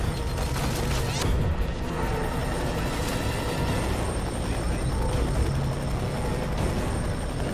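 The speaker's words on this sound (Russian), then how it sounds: "Вертолет Эхо-2-4, он прямо над вами." A helicopter in the video game F.E.A.R. 3 hovers overhead with a loud, steady rotor roar and engine drone that fills the scene, continuous and close throughout.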